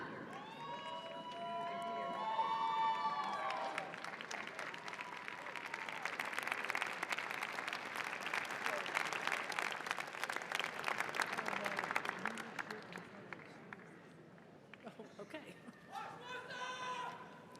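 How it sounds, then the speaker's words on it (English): A university fall commencement audience applauds graduates, a broad wash of clapping and cheering that swells through the middle and fades, with speaking voices heard at the start and end. "Let's all give them another round of applause."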